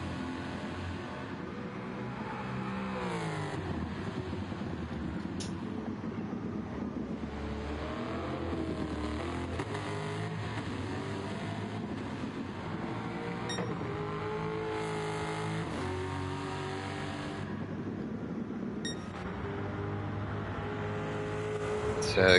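Race car engines lap in a racing video game, their steady drone rising and falling as gears shift and revs climb and drop, held at a moderate level throughout.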